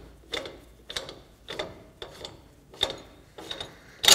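A ratchet spins a four-wheel-drive wheel hub nut loose, giving seven evenly spaced clicking bursts about every half second, close and clear with no talk.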